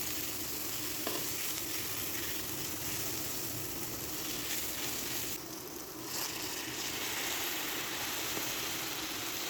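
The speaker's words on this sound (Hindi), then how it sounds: "अब हम इसमें ऐड करेंगे अदरक और लहसुन का पेस्ट," Ginger garlic paste sizzles and fries with browned onions and whole spices in a pan for a stuffed tinda and qeema dish, a steady close hiss with brief stirring scrapes and no voices.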